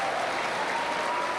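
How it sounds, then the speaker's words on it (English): An audience at a coaching centre event applauds a district police officer, with a steady wash of clapping held at an even level throughout. "give him a big applause"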